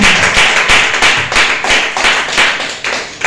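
A church congregation claps loudly and steadily together, dense overlapping hand claps with a faint rhythmic pulse running unbroken for a few seconds, no voices on top.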